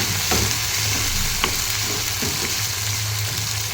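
Tomato paste frying in oil with masala in a home kitchen, a close, steady sizzle and bubbling with a few sharp scraping stir sounds, moderately loud and continuous.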